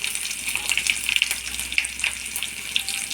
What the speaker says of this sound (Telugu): ఇప్పుడు ఇవన్నీ తాలింపు వేసిపోయినాయండి.